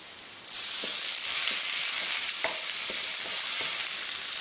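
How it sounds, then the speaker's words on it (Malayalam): Chopped tomatoes hit hot oil in a pan for a shallow-fried chicken curry, and the sizzle jumps up loudly at once, then carries on steadily under repeated scraping stirs from a spoon. "ഇതിലേക്ക് നമുക്കിനി ആ തക്കാളി അരിഞ്ഞു വെച്ചിടാം"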